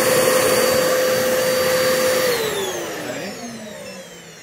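A Kenmore vacuum cleaner runs loud and close during a power test, its steady whine holding, then dropping in pitch as the motor winds down; a single brief word is spoken.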